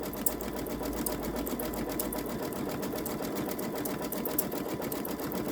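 A Babylock Solaris Vision embroidery machine stitching a framed gnome design onto a t-shirt, running in a steady fast mechanical rhythm of needle strikes, close and continuous.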